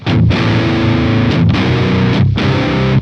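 Heavily distorted eight-string electric guitar through the Neural DSP Archetype Rabea plugin, low eighth-string riffing in loud sustained chugs broken by three brief gaps, with no voices.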